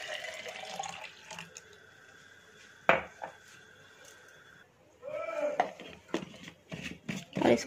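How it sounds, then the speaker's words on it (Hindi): Milk pours into a coffee shaker while making instant cappuccino, a soft liquid trickle and pour with a sharp clink of the container near the middle, followed by a few louder handling knocks, close and moderately quiet. "अब एक कॉफ़ी शेकर लेंगे और उसमें दूध डालेंगे।"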